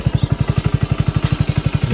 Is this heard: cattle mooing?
no